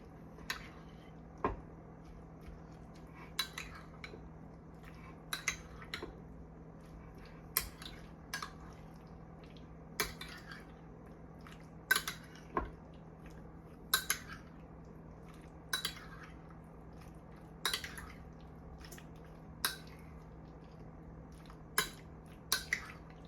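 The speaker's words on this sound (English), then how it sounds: "So a big dollop of sour cream. And you mix it all up." Sour cream being stirred in a bowl with a utensil for a homemade salad, heard as soft wet squishing and repeated light clinks of metal against the dish in an irregular rhythm, close and fairly quiet.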